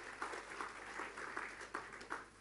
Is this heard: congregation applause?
yes